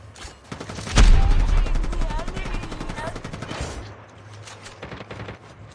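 Rapid video game gunfire rattles in a dense, loud burst of closely spaced shots, sustained for a few seconds before fading into quieter sporadic firing, with players talking over it.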